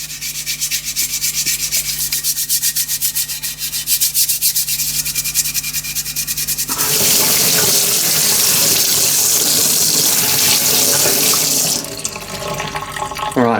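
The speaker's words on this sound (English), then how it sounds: "the water is just sheeting off that surface without breaking" Running water rinsing a metal part before powder coating, a loud steady gush and splash that shifts in tone partway through as the flow hits the surface differently, with no talk.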